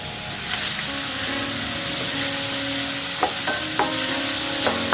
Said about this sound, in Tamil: இந்த வெங்காயத்தை கொஞ்சம் ஒரு கோல்டன் கலரில் வர வரைக்கும் ஃப்ரை பண்ணிக்கோங்க